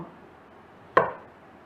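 One quick knife cut through homemade pork sausage lands on a cutting board, a short close thud in an otherwise quiet room.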